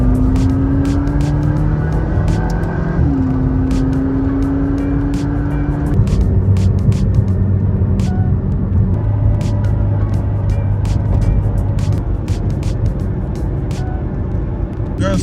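A Lamborghini cruises with its roof up at a Christmas supercar show in Newport Beach. Its engine drones loud and close inside the cabin, rising and shifting through the gears, with ticking and clicking over the top.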